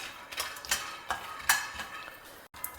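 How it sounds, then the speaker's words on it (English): Peanuts are dry roasted in a pan over a low flame, stirred so the nuts rattle and scrape against the metal in short, uneven bursts, close and fairly quiet. "Next, half a cup of peanuts. We will dry roast this also."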